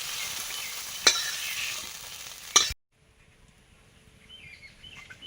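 Helencha greens sizzle steadily while frying in oil, broadband hiss with two sharp pops, then cut off abruptly to near silence with faint background sounds.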